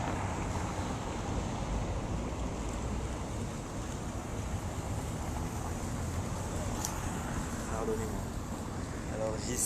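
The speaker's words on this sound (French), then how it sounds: "il y a beaucoup de vent ici devant ce Parlement français" Strong wind buffets the microphone outside the French Parliament, a steady loud roar with low rumble throughout, with faint voices in the background.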